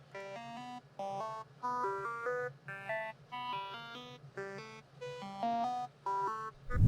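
A phase lead synth preset from Xenology in FL Studio, part of a hard trap beat, plays a bright repeating melodic pattern in short phrases, quiet and alone, ending with a sudden low burst.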